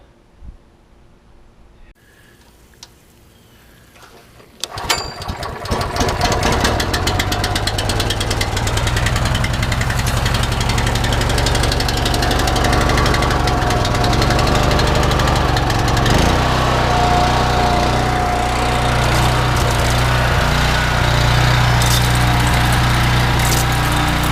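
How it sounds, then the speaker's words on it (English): A power washer cleans the engine bay of a 1980 second-generation Camaro with a 5.7 small-block, its motor starting up and then droning loud, steady and close for the rest of the clip. "Got the power washer hooked up out there."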